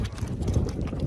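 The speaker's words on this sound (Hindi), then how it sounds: "अभी हमने घोड़सवारी कर रहे हैं। हमने घोड़े लिया, मैं और इंजीनियर उमर जनाब घोड़े पे बैठे हैं अभी" Horse hooves clip-clop in a quick, steady rhythm while riding near the Giza pyramids toward the desert, close by under wind and faint outdoor background noise.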